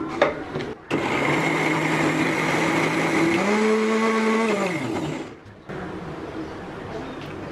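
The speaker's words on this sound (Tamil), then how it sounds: "நம்ம மிக்ஸில வச்சு அரைச்சுக்கலாம்" A mixer grinder whirs loudly for several seconds grinding coriander chutney, its motor pitch shifting as it blends, then stops; brief handling sounds before and after.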